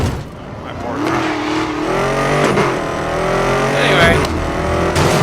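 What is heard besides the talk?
car engine noises in Need for Speed Most Wanted video game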